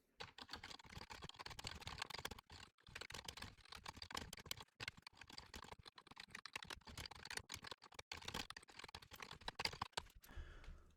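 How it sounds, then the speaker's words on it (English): Rapid, steady typing of code on a computer keyboard, close and fairly loud, with dense clattering keystrokes and brief pauses over about eleven seconds, with no voices. "So I'm going to type out the following."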